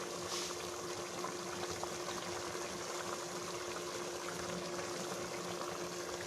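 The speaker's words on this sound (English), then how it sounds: "let it simmer a little bit so you guys can just watch me do the rice" Rice simmers in a pot, giving off a steady, even bubbling hiss that holds without a break throughout and stays moderately quiet, with no one speaking.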